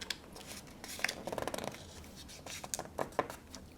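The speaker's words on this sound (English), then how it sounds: "So let's fold that down." Paper is folded and creased to wrap money as a gift, making soft, close crinkles and rustles with brief sharp scratches of the crease, quiet and continuous.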